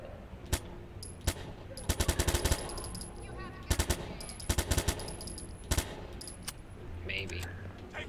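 Rapid bursts of automatic gunfire in the Watch Dogs 2 video game crack out in clustered volleys, with sharp single shots between them and faint game ambience behind.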